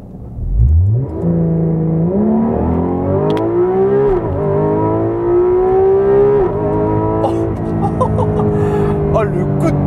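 A Porsche 911 GT3 RS engine revs hard toward 9000 rpm while accelerating, its pitch climbing in smooth sweeps with a brief shift, loud and close from inside the car, and a voice speaks over it.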